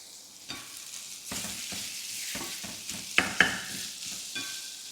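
Prawns fry with tomatoes and curry leaves in a pan, giving a soft, steady sizzle broken by occasional scraping stirs and a couple of sharper clinks, fairly quiet and without talk.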